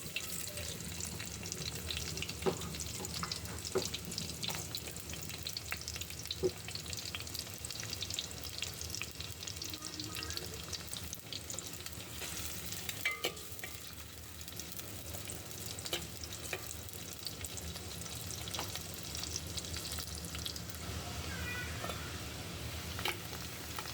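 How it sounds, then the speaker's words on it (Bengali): Cumin and onion fry in hot oil with a continuous, even sizzle that stays steady and moderately quiet throughout, with faint occasional stirring clinks. "তেল গরম হয়ে গেছে, আমি একটু জিরা দিয়ে দেব। তারপর দিয়ে দেব পেঁয়াজ।"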